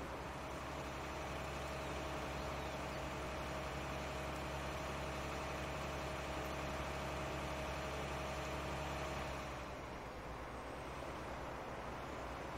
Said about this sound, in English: These articulated tractors are hard to steer sometimes.